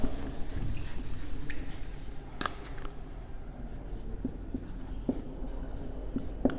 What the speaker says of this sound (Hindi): चाहे तो मैं लिख लेता हूं यहां पर